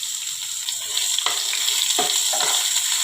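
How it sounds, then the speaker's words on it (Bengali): Chopped onion sizzling in hot oil with black cumin seeds, a steady bright fry with a few scraping stirs near the pan, no voices. "পেঁয়াজটা একটু ভেজে নিলে স্বাদটা একটু ভালো হবে"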